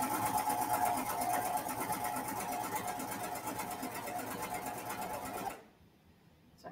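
A sewing machine stitches a gathered ruffled skirt, running in a steady close rattling whir for over five seconds before stopping abruptly into near silence.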